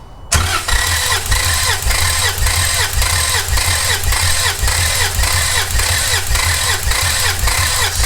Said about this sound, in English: Ray is now gonna turn over the engine, and we're gonna see what this one's at.